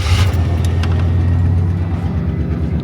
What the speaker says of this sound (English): When I first wake up, I like to start the vehicle just to make sure everything's all good.